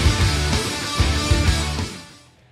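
Late-1990s to early-2000s pop punk plays alone: dense, full-band music with driving low-end accents and sustained bright guitar wash, fading out over the final half second.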